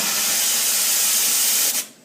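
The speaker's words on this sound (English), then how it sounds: "this is my steam wand on my espresso" Steam wand on a home espresso machine, a loud steady high hiss of steam that cuts off abruptly near the end, heard up close with no talking.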